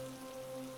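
Rain falls in a soft, steady patter, faint and even throughout the short stretch, with a low tonal hum beneath it.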